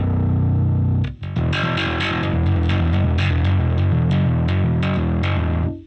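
Bass guitar plays through a Marshall amp plugin on the low gain input of the treble channel, giving a loud, heavily distorted, gritty tone with a sharp attack after a brief pause near the start.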